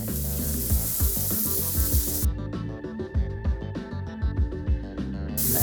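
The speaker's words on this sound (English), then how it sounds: "Hear that nice sizzle." Onions dropped into hot oil in a pan sizzle and crackle for about six seconds. The frying sound is close and busy, with bursts of sharp spitting, and no one speaks.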